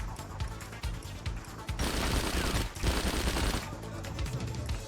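Bursts of gunfire from the video game Wheelman, with rapid automatic volleys that swell into a dense, sustained fusillade midway and then keep rattling loudly, with no voices over them.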